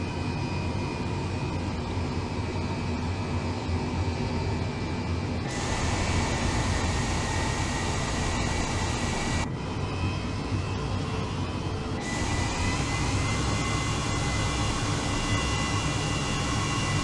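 Turbines of a Mil Mi-8 helicopter in the MSFS flight game spool up with a steady, loud broadband whine and roar, the rotor turning slowly beneath, with the high-pitched hiss rising and dropping in blocks.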